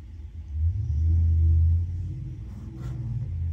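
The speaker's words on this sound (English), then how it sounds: "There goes the delivery truck." A delivery truck passing outside in the early morning, a low engine rumble that swells and fades over a few seconds, heard from indoors at moderate distance.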